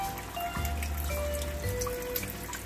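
Water trickling steadily onto the grain bed of an Ss Brewtech 3V brewing system during a fly sparge, a continuous close splashing flow with low tonal hum underneath.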